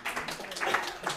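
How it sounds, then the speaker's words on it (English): Audience applause at an antiques talk in Harrogate, a dense patter of many hands clapping steadily for about a second at moderate volume, with no speech over it. "Give her a round of applause."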